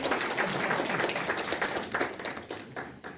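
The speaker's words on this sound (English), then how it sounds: "Our second champion, you want to clap for them?" An audience claps for a champion at a public event, a brief, fairly quiet patter of many hands that fades slightly toward the end, with no one speaking over it.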